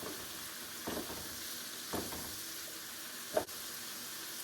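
Onions for a bacon green bean casserole sauté in a pan, a soft steady sizzle broken by a few scraping stirs and one sharp clink of a utensil near the end, with no talk.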